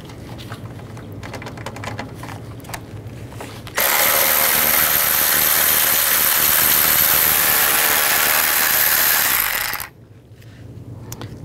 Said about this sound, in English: Take these 2 screws out. You're going to use a T25 socket.